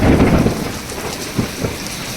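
Heavy rain pours down steadily during a storm, a dense close hiss with a low rumble of thunder, loudest at the start and easing slightly.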